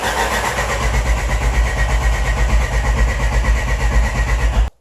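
A 1.8T Porsche 944 engine cranks on a booster pack, a loud steady rhythmic churning of the starter turning the engine over for nearly five seconds before it stops abruptly.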